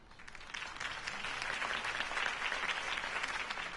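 Steady applause from a large crowd in Batman: The Telltale Series, continuous clapping that swells quickly after a brief quiet start and holds at an even, dense level throughout.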